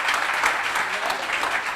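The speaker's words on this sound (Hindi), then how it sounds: "अगर इस बात से सहमत है तो एक बार तालियां जरूर बजा दो भाई" Audience clapping at a technician felicitation ceremony, a dense, steady wash of hands that holds at an even level throughout, loud and close with no pauses.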